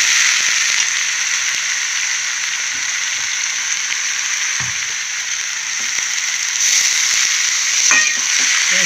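Bitter gourd pieces frying in a pan while being stirred, with a constant loud sizzle and occasional scraping clicks of the spoon, no voices.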